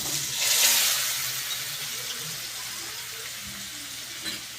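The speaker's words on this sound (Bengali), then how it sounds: "এইবার আলুগুলো একটু বেশ ভালো করে ভেজে নেব।" Potato pieces fry in hot oil with turmeric, giving a steady, close sizzling hiss. It swells briefly near the start, then settles into a continuous crackle with no talking.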